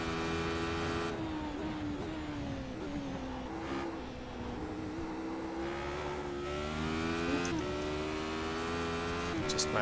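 A race car engine in a sim racing game played on a Fanatec DD2 wheel whines steadily, its pitch climbing and dropping through gear changes as the car accelerates and brakes around the circuit, a constant mid-level drone.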